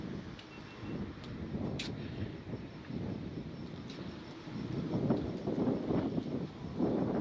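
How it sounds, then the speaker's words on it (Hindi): Strong wind blowing outdoors at a scenic stop on a long motorbike journey, a continuous rough low roar and buffeting with gusts swelling toward the end, no talking. "काफ़ी हवा चल रही है"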